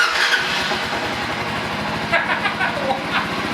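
A Kawasaki KLR motorcycle engine turns over and catches on its first start, settling into a steady, rapid low throb with some background noise.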